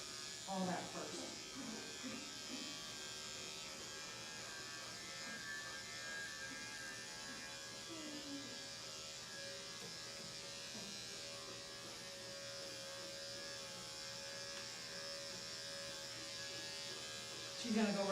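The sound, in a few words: electric clippers trimming a dog's tail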